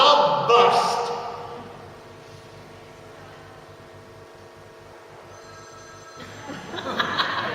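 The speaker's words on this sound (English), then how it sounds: "Then the phone rang." A telephone rings during a dialect storytelling performance at a festival, its bell bursts clustering near the start and again at the end, with murmuring voices underneath.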